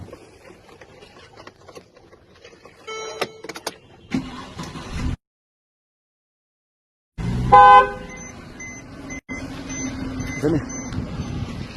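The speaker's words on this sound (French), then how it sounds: "Maintenant, on va klaxonner." A car horn gives a short toot amid passing vehicle noise and a reversing beep, with stretches of near silence between bursts of traffic.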